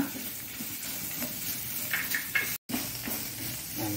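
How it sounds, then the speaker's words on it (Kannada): Turmeric powder frying on a low flame, a soft, even sizzle close by with faint stirring scrapes and light crackles, and no voices. "ಇದರ ಒಟ್ಟಿಗೆ 1 ಚಮಚದಷ್ಟು ಹಳದಿಯ ಪುಡಿ, ಇಷ್ಟನ್ನು ಹಾಕಿ ಇದನ್ನು ಸಣ್ಣ ಉರಿಯಲ್ಲಿ ಸ್ವಲ್ಪ ಫ್ರೈ ಮಾಡಿಕೊಳ್ಳೋಣ"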